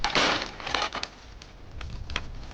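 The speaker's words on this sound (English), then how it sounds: "It shatters very easily, just like the glass in a car window." Regular glass shatters into pieces, a loud initial crash followed by several scattered sharp tinkling fragments over a couple of seconds.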